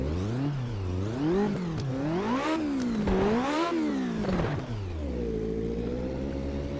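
A racing car engine in the video game Automobilista 2 revs up and down repeatedly, climbing and falling in pitch several times, then settles into a steady idle, loud and close.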